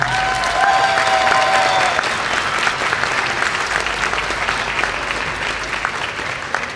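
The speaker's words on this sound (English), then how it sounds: "give them another round of applause." Sustained audience applause fills a school auditorium after a third-grade elementary program, a dense, steady wash of clapping hands at close range that continues throughout with no speech.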